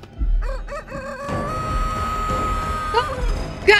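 A rooster crows in the Chicken Feet video game: a loud, wavering crow rises at the start, then trails into a long drawn-out tone over game background noise, with another short squawk near the end.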